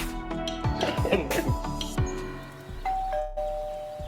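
A doorbell chimes several tones in a row, fairly close, followed by a held electronic tone, with some voices faintly in the background.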